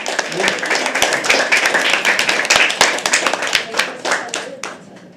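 A small crowd at a live poetry open mic claps for the next poet coming to the stage. The clapping is close and lively, with distinct individual claps that gradually thin out. Some voices come through underneath.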